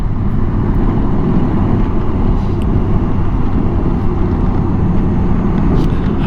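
Honda Gold Wing GL1800 touring motorcycle riding along, a steady loud engine drone mixed with rushing wind noise, constant and close throughout with no talk.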